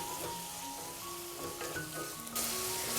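Masala sautés gently in a pan while cooking a chicken dish, a soft low sizzle with faint stirring scrapes in the background, quiet and continuous over a short stretch.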